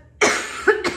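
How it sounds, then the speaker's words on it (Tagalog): A person coughs at home in a rural province setting, two or three close, dry coughs in a short burst with brief gaps between them, heard alone. "Inuubo pa rin tayo, pero wala na tayo."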